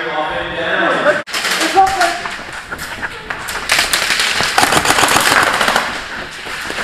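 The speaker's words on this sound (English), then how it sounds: "You shot me after you died, buddy!" Rapid full-auto bursts from airsoft guns, including a G&G SSG1, rattle loudly and almost continuously during an outdoor airsoft game, with players shouting over the firing.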